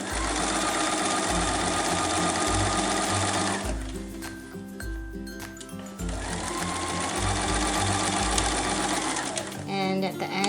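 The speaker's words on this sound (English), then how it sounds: "Do a back stitch, turn at the corner, and the whole time the fabric is aligned" A sewing machine runs close by, stitching and back-stitching fabric for a face mask with ties, in two long bursts separated by a short pause while someone talks over it.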